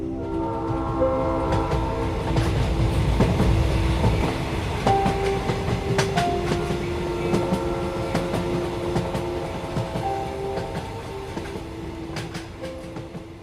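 Train running on rails as a sound effect for a Bengali detective audio drama, departing Howrah station: a steady, loud rumble of wagons with a drawn-out horn blast layered on top, continuing throughout with no speech.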